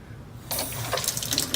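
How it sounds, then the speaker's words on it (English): Water from the faucet of a Kangen SD501 under-counter water ionizer, turned on slowly, starts after half a second of near quiet and then runs as a steady, close rushing hiss with slight fluctuations. "you may come to the faucet and turn on the flow slowly"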